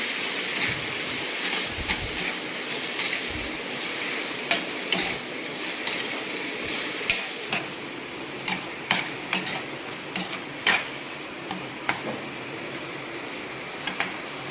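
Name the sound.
frying and stirring tomatoes with salt in a pan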